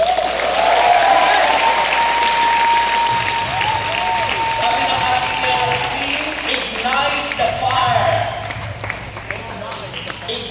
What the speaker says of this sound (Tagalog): yung inyong palakpak sa Diyos.